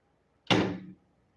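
A kitchen door pushed shut in one loud, close thud that rings briefly and fades, with no talk.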